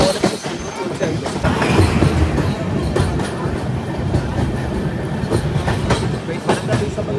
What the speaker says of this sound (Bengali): ট্রেনটা আমাদের খুব সুন্দর চলছে একদম।